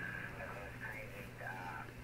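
Radio signals tuned on the 40-meter amateur band come through a receiver as faint, steady hiss with wavering tones drifting in and out, with no voice over them.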